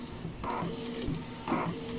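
A Canon G2010 inkjet printer with a paper jam prints a page, a whirring mechanical drone with rising and falling motor tones and repeated soft clunks as the carriage and rollers move, heard up close and alone.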